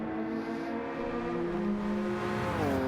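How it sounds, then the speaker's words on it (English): Two Japanese race cars in a racing video game drone together at close range, their steady, layered engine notes running side by side before one pitch dips and shifts near the end. "I love the sound of those two cars together."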